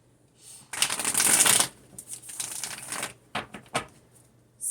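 Tarot cards being shuffled by hand, a crisp close riffle burst followed by several shorter flicks and taps of the deck, with no talking.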